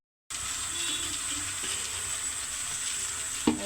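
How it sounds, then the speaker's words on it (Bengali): Dried fish cooking in hot mustard oil, a close, continuous frying sizzle that starts abruptly, with a brief clatter near the end and no voices. "সরিষার তেলে রান্না হচ্ছে"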